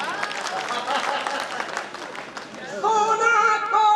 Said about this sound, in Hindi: एक बार मेरी पत्नी के सम्मान में ताली बजा देता हूं